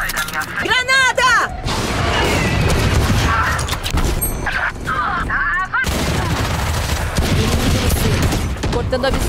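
Gunfire and explosive blasts in a Valorant ranked match, with dense bursts of shots and booms filling the scene almost continuously while players talk excitedly over the action.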